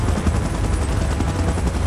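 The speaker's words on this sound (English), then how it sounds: "Chopper in position." A helicopter hovers in position for an evacuation in a monster-battle film scene, its loud, steady rotor roar filling the whole moment with a dense, continuous throb.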